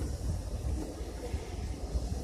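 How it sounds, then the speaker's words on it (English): A steam train running as the Hogwarts Express pulls out of Goathland station bound for Whitby on a windy day, giving a steady low rumble and churning that rolls on throughout, with no voices. "This is a train leaving Goathland"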